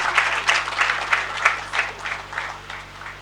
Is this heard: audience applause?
yes